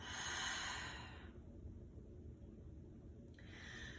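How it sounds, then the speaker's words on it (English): A slow, soft exhale out through the mouth during a yoga warm-up, a broad breathy rush that fades into a quiet pause before another breath begins, close and alone with no talking. "Exhale out through your mouth."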